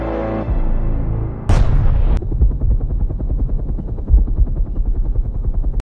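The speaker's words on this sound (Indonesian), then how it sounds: "pergi dengan helikopter" A helicopter's rapid rotor chop thuds loudly and steadily, mixed with heavy booming blasts near the start, continuing without pause.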